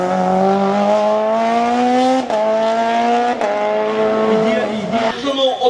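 A race car, number 128, climbs a hill climb course at the 2022 Herenguerville-Quettreville event, its engine revving high and loud through several gear changes and dropping briefly near the end, with tire noise.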